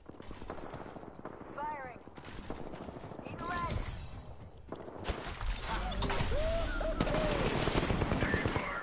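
Sustained automatic gunfire in the video game Apex Legends rattles close and loud in fast continuous bursts, layered with other game effects and voices.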